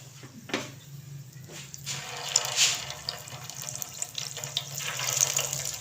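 Gobi koftas frying in hot oil in a pan give off a steady, close hiss of sizzling with a few sharper pops rising and falling.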